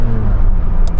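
A Porsche 911 GT3 engine gives a short, loud, close rumbling rev in traffic, a deep sustained growl lasting about a second with no voices.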